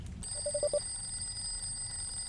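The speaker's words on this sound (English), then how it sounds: "Oh, phone call." A telephone gives a quick series of short, clipped rings that fade in over under half a second, against a steady high-pitched whine and low background noise, with no talking.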